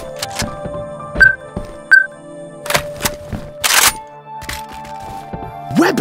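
Weapon reload in the game Left 4 Dead 2: a series of close mechanical clicks, clacks and metallic snaps, with brief sharp transients and a few louder impacts spread across several seconds.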